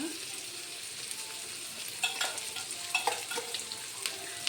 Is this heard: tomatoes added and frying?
yes